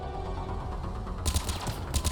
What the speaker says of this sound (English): Commander, we're getting a lot of mortar fire.